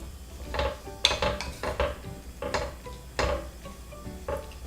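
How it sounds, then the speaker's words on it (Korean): Perilla oil stir-frying in a pot, with repeated clinks and scrapes of a utensil against the pot in an uneven rhythm over a faint sizzle, close and fairly quiet. "들기름을 이렇게 들들들들 계속 볶다 보면요"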